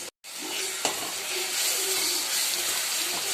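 Onion fries in a pan with ginger-garlic paste for a mutton curry, giving a steady, moderate sizzle and hiss along with a brief clatter near the start.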